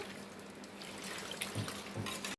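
Chana dal being rubbed and rinsed in a bowl of water, with faint, close sloshing and trickling and a few soft splashes throughout.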